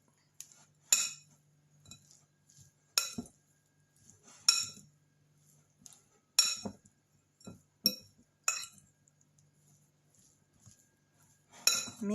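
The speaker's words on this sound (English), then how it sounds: "after mixing the rice vinegar into the rice, you set this aside" A utensil mixing rice vinegar into cooked rice for baked sushi, giving sharp clinks and scrapes against a bowl in irregular bursts about every second or two, close and clear with quiet gaps between.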